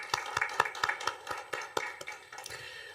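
Congregation clapping during a Christmas worship service in a church, a run of sharp, fairly quiet handclaps in loose rhythm, some near and some farther back, with no talk over them.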